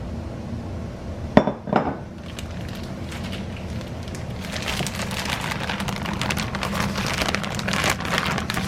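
A lid is pried off a container of fermented river barb fish pickle made with garlic and rice, giving a sharp clack followed by a rattling clatter, then a steady crackling hiss.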